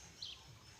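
A tui, a native New Zealand bird, calls once in a brief, faint high whistle over quiet morning ambience beside Lake Tarawera.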